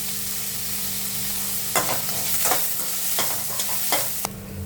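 Onion and curry leaves sizzle steadily in hot oil, and a spoon or spatula scrapes the pan in several sharp, separate strokes. The sound is close and continuous, and no one speaks.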